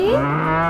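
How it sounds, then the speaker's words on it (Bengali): A single cow gives a short, close, loud moo, a brief rising bovine call heard alone. "গরু বাছুর দাঁড়িয়ে আছে"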